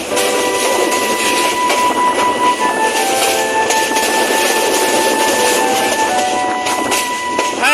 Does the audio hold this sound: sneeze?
no